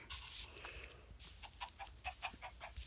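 Chickens in Minecraft Pocket Edition cluck in a short run of repeated, fairly clear calls, with a pig and a cow on the same farm, set over steady background game noise.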